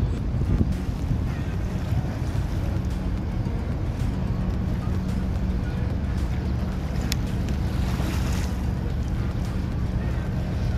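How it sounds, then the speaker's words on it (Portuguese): A motorboat engine drones steadily beneath wind buffeting the microphone and the wash of water on flooded streets in central Itajaí, Brazil, constant and fairly loud. "A lancha passando aqui, quer ver?"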